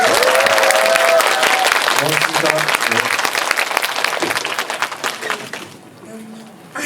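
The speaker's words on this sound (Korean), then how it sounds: "우리 고생한 배우들한테 박수 한 번만 다시." Audience applauding the cast of the film 'Brave Citizen' at a special talk screening in a Lotte Cinema hall in Seoul, a dense, loud burst of clapping that fades toward the end while someone speaks over it.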